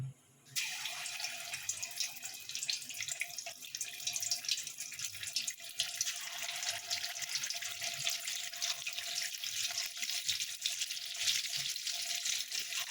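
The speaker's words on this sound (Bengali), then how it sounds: "এবার আমি কোপ্তাগুলো ছাড়বো ভাজার জন্য" Chicken kofta balls drop into hot oil and fry with a sudden onset, then a bright, steady sizzling hiss that holds close and even throughout.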